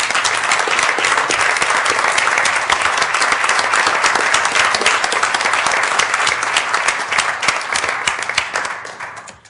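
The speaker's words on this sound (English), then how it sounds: "Could we ask you to please stand, Cynthia, so we can give you a round of applause" Audience applause fills a University of Minnesota Board of Regents meeting room, a dense, even wash of many hands clapping that fades out at the end.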